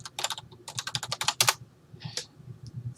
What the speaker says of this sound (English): And in here, just type in Freeport.